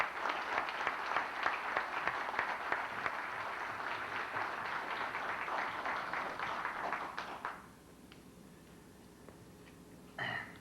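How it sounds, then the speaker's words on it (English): A ceremony audience at a 2003 Kentucky Library & Museum special recognitions event gives the Hardcastle family a sustained, dense round of applause that stops abruptly, leaving a quiet room with one short sound near the end. "Let's applaud the Hardcastle family."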